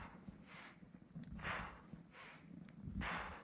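Short nasal sniffing breaths repeat in a steady rhythm, about one every second and a half, taken during a guided breathing exercise in a health and wellness class, close and fairly quiet with faint room noise between them.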